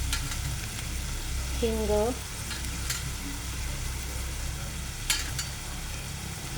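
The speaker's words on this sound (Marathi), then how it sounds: "बघा कांदा लाल होतोय. कांदा परतत असतानाच त्यामध्ये" Sliced onion browning in a pan for poha with dried prawns gives a steady, close sizzle and a few stirring clicks, with one brief spoken word over it.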